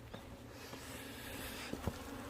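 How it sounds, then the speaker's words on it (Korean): Faint buzzing of hornets hovers near beehives, a soft continuous drone with a couple of brief louder passes. "진짜 말벌 진짜 끊임없이 옵니다"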